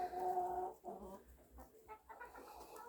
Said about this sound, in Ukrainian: Курочки мене радують.